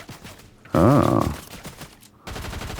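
Assault rifle fire in Fortnite: a loud, dense burst of rapid shots that lasts about half a second, with a harsh tonal whine sweeping through it, then quieter game noise before another burst of clattering fire starts.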